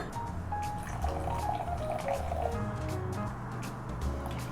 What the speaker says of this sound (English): you're gonna put 2 ounces of Mexican Coke in